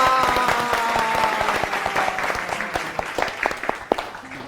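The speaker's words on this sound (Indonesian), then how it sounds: "Tepuk tangan dong" A small studio audience on a talk show claps in a quick, crisp round that starts fairly loud and gradually thins out to a few scattered claps, with faint tonal sounds in the background early on.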